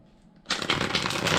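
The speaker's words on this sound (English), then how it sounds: "That didn't shuffle well." Tarot cards being shuffled by hand, a dense papery riffling burst that starts abruptly after a quiet moment and continues steadily, close and fairly loud.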